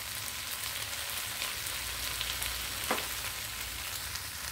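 Chili paneer fries in a pan with a steady, moderately loud hiss and crackle throughout, with one brief utensil tap and no talking.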